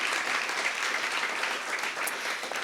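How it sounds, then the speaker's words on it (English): A room of attendees at a university well-being event applauds campus partner programs, dense even clapping that holds steady for a few seconds at moderate distance. "We could just give them a little round of applause and check out their tables at the end."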